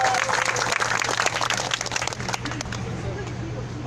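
Applause from the crowd at a Wednesday protest rally, brisk clapping from many people that is loudest at first and thins slightly, over a steady low hum and some background chatter.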